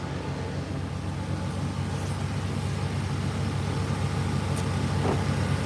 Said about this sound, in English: Look, fans is on.